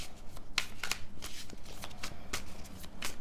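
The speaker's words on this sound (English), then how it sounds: "Let's shuffle with a little more intention here." Tarot cards riffled and shuffled by hand in a quiet room, a run of soft, crisp flutters and taps close to the ear, with no talking.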